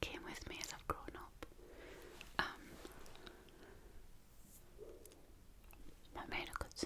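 Biscuits being eaten close to the microphone, with soft crunchy bites and chewing clicks scattered between quiet whispering.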